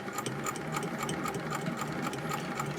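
Singer 201K sewing machine stitching fabric at a brisk, even pace, its rapid rhythmic clatter of needle strokes close and clear over a soft motor hum, with no talking.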